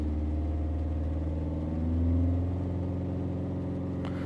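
A Volvo S40 1.6 diesel engine is held at about 2,500 RPM, giving a steady, close mid-pitched drone with a faint rattle and a brief swell in the middle, with no speech.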